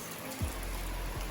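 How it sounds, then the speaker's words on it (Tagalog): Steady rain pattering down outdoors, a continuous close wash of falling drops with a couple of low thumps. "Nagpapatila kami ng ulan. Ayaw naman tumila yung ulan."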